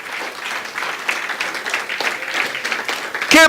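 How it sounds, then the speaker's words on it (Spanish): A church congregation claps and cheers in a lively burst of applause during a sermon, a dense patter of hands lasting a few seconds, with a voice cutting in loudly at the very end. "Denle un aplauso al Señor."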